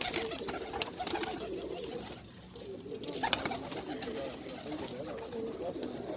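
Kept pigeons on a rooftop in Sialkot coo softly and repeatedly, quiet and fairly close, over faint outdoor background noise.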